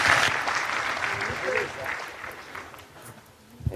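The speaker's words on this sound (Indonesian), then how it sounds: "kita persilakan tepuk tangan untuk Pak Muzamil 10 sampai 15 menit" An audience applauds, starting loud and gradually thinning out, with a voice briefly audible near the end.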